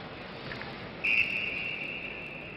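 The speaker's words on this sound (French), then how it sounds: "Coup de sifflet, pourquoi?" A single sharp referee's whistle blast at an ice hockey game cuts through a steady background hum of a large arena, ringing for about a second and then fading.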